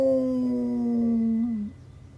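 A storyteller's voice imitates a coyote howl: one long, close, loud howl that holds steady and then slides downward before cutting off, with nothing else around it.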